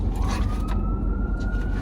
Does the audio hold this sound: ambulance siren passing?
yes